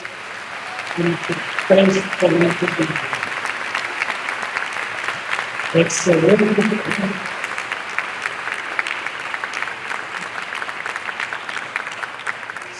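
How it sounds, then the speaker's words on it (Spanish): A conference audience applauds in a steady wash of many hands clapping that carries throughout, while someone speaks briefly over it at two points. "Quiero que les den un fuerte aplauso."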